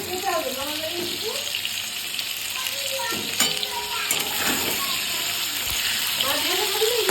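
Hilsa fish frying in a pan, a continuous sizzle with some stirring and clatter, while voices talk over it at times and water briefly runs in the background.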